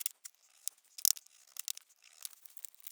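A plastic package case being cut open: short dry tearing and crinkling bursts, close and fairly quiet, coming in uneven clusters with brief pauses between.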